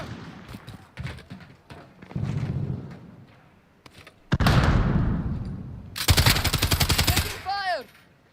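Rapid bursts of automatic gunfire in Call of Duty Modern Warfare, loud and close, alternating with single shots and a brief lull, ending in a fast rattling volley.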